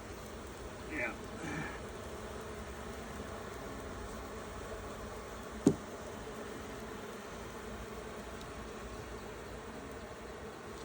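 Honeybees hum around an open hive top during an inspection, a faint continuous buzzing drone across the whole span with a brief sharp knock midway.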